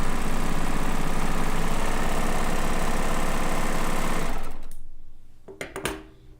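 Euphoria sewing machine stitching steadily with its standard presser foot, a loud continuous mechanical whirr for about four and a half seconds, then stopping, followed by a few faint clicks and handling sounds.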